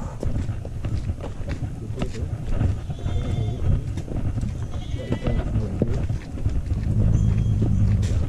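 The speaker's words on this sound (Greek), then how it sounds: "Άλογο." A horse walks on the road to Agiasos, its hooves knocking in an uneven series of clops amid busy outdoor noise, while people talk nearby.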